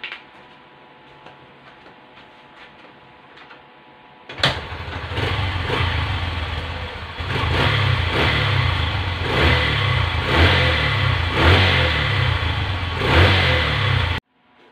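A Honda CB125 motorcycle suffering from an electrical fault turns over and fires up, then runs loud and steady with rhythmic rises in revs, after a few seconds of quiet clicking.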